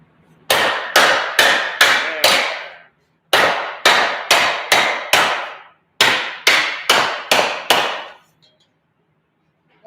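Sheet metal hammered into a bowl shape during metal fabrication, three close rapid runs of sharp ringing metallic blows, five or six strikes each with brief pauses between, loud and near.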